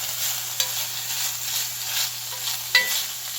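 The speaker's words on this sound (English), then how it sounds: "The sausage, you can probably hear it. It's doing really, really good." Sausage frying in a cast iron pan, a steady soft hiss of sizzling fat with a couple of small pops and a faint low hum underneath, close and fairly quiet, no voices.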